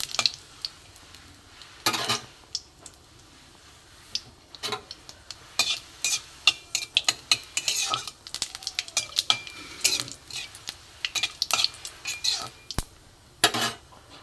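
Dried red chillies, whole cumin and a bay leaf sizzle in hot mustard oil for a vegetarian dish while a spoon stirs and scrapes the pan, giving repeated sharp metallic clinks and rattles over a soft, steady frying hiss.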